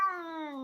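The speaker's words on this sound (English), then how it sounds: "So, this is Momo, my other cat." A house cat gives one clear, close meow with a slightly falling pitch, short and distinct with no talking.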